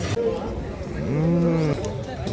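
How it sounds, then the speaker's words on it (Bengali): A bull moos once, a long, loud, rising-and-falling call that stands out clearly over a busy outdoor background with faint distant voices. "খুব ভালো ষাঁড় দেখুন।"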